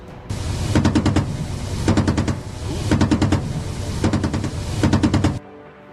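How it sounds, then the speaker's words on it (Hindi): A Russian combat helicopter fires machine-gun bursts, four loud rapid volleys of rattling shots separated by brief pauses, with steady rotor roar underneath throughout. "रूस का लड़ाकू हेलीकॉप्टर इसी तरह वहां रुक रुक कर गोलियां बरसाता रहा"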